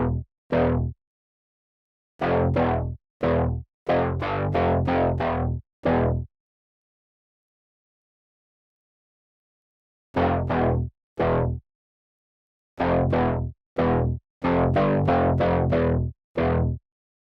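Classic guitar riff played slowly on a Nord Drum 3P, sounding as punchy, distorted percussive hits in quick clustered bursts separated by a long silent gap, loud and close with no talking.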